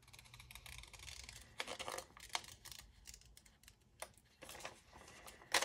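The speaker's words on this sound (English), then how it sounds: "I knew I had a pair of Tim Holtz snips in here." Tim Holtz snips cut through magazine paper, trimming around a collage paper doll's head in a quick run of close, crisp snipping and rustling clicks at low volume.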